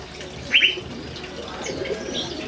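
Birds calling in an aviary holding magpie-robins and other birds: a sharp chirp stands out briefly, with softer cooing and scattered calls in a steady background murmur.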